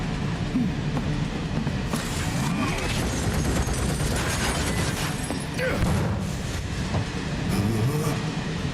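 Rumble and rattle of a train running in the Final Fantasy VII Remake video game, a steady low rolling din with metallic clatter and occasional knocks, loud and continuous throughout.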